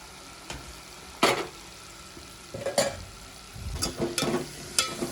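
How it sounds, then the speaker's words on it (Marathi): Green chilli and spring onion frying in hot oil for a clam curry, stirred by hand: a low sizzle under intermittent, close scraping and clattering strokes that grow busier toward the end, with no voices. "त्याच्यामध्ये तेल गरम करून झालं आणि त्याच्यामध्ये मिरची आणि पातीचा कांदा टाकून घेतलेला आहे"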